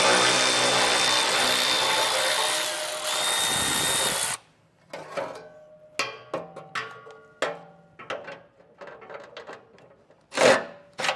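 A power tool spins out 13 mm heat shield bolts from a truck frame rail in a long, loud whirring run, followed by scattered clinks and rattles of loose metal at close range.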